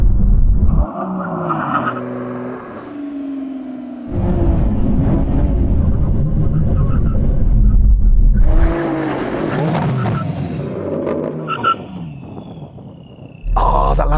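A Lamborghini Revuelto, BMW M3 Touring and Audi R8 make a full emergency stop after a drag race, with loud engine roar, sudden deceleration and tire squeal across several bursts, and voices over the top.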